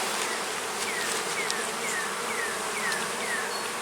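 Honey bees swarm and buzz around a newly marked queen at an open hive, a dense, steady drone close by with faint chirps threaded through it.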